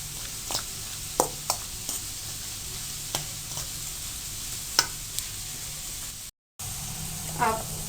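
Carrots fry gently in olive oil, a soft steady sizzle with scattered utensil clicks and taps against the pan, fairly quiet overall with a brief dropout near the end.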